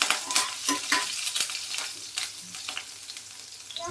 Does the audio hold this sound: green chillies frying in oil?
yes